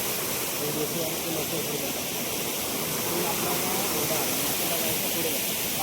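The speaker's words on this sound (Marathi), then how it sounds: "इथे छोटासा धबधबा तयार झाला इकडे" A small waterfall on a flowing stream gives off a steady, dense rushing hiss with no pauses, close and fairly loud, while someone speaks briefly over it.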